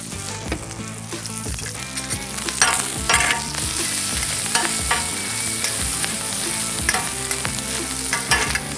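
Bacon frying in a pan for street-style hot dogs crackles and spits with sharp pops, while spatula scrapes and stirring clatter sound close up over a constant sizzle.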